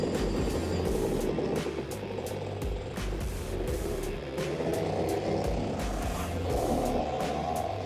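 A Rotax two-stroke go-kart engine drives on a track, producing a continuous buzzing, droning engine roar that rises and falls slightly in pitch, with steady loudness and faint rhythmic pulses over it.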